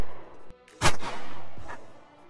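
A Ruger CS9 pistol fires one loud, sharp shot outdoors, leaving a booming tail that fades away, with a fainter knock a moment later.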